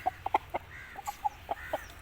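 An Aseel rooster clucks in a run of short, sharp calls, about eight or nine over two seconds, close by against a quiet background.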